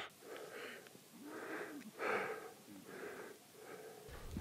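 Labored, wheezy breathing at high altitude on a trek near Everest, several heavy rasping breaths in a steady rhythm, close and moderately loud with no talking.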